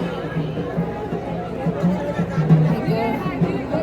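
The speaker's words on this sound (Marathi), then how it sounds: "खूप गर्दी आहे" Chattering devotees fill a crowded temple hall near the inner sanctum, a steady dense babble of many voices close by with no single voice standing out.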